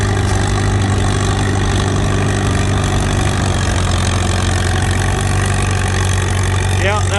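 Antique Farmall and John Deere tractors rumble steadily at a plow day, a loud, continuous low engine drone with people talking over it.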